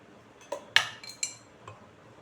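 A spoon clinks against a bowl while mayonnaise is added for a creamy cheese pasta: four or five sharp, close metallic taps spaced unevenly over a couple of seconds, in a quiet kitchen.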